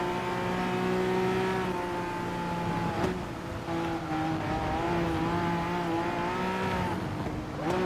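A Peugeot Vision GT Gr.3 race car's engine drones steadily in Gran Turismo Sport, a sustained loud whine with slight pitch shifts as it holds speed, alone without voices.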